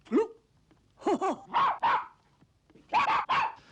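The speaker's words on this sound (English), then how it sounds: "I thought I heard a dog myself." A dog barks in a film set in Edinburgh, giving several sharp, fairly close barks in two clusters with short pauses between them, heard alone without any talk.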